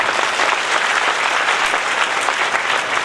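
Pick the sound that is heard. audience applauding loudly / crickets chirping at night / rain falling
audience applauding loudly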